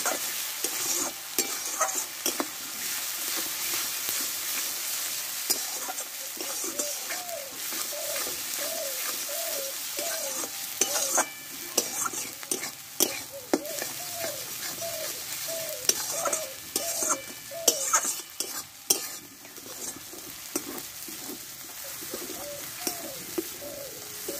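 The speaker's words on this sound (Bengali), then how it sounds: "এবার মশলাটা একসঙ্গে ভালোভাবে এবার কষে নেব" Turmeric and cumin spice paste is stir-fried in a pan for potato dum, with a steady close sizzle and repeated scraping stirs, while pigeons coo in rhythmic bursts in the background.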